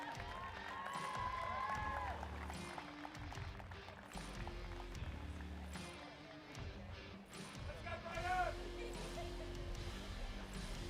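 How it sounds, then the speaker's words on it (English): Crowd applause and cheering at the STIHL TIMBERSPORTS Australian Pro Championship 2025 as competitors take the stage, a steady wash of clapping and shouts heard from some distance, with a few whistle-like cries rising above it. "Ladies and gentlemen, big round of applause"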